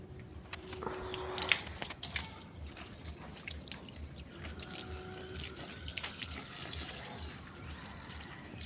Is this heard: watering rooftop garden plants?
yes